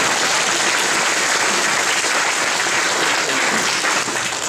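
Loud, dense applause from a church audience at a priest's 25th ordination anniversary celebration, many hands clapping continuously and evenly, fading slightly at the end.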